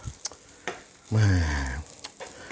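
Sausage and garlic stir-fry sizzling in a hot pan, a loud steady frying hiss rising mid-clip between lighter clicks of stirring, close up with no talk.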